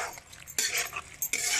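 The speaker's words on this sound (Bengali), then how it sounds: "এবার ভালো করে কষিয়ে নেব মশলার সঙ্গে এই মাংসটাকে আর আলুটাকে একসঙ্গে।" Meat and potatoes are stirred with spices in a pot, a spoon scraping and clinking in short bursts while the mixture fries with a soft sizzle underneath.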